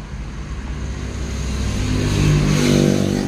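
A Hyundai Reina engine with an ignition coil problem idles and then revs up steadily, a close, continuous rumbling drone that grows louder toward the end.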